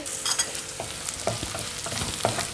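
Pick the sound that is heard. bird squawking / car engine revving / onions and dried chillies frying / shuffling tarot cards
onions and dried chillies frying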